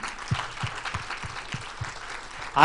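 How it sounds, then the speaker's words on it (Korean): A church conference audience in Korea claps during a keynote lecture, a soft, steady patter of applause with a few low thumps, rising louder at the very end. "박수 한번 쳐봐요."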